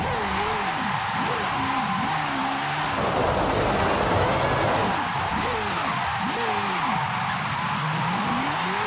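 Continuous tire squeal from a car drifting in Forza Horizon 5, part of the Nissan Retro Rides pack driven with a steering wheel, with wavering engine revs rising and falling under the screeching, loud and close throughout.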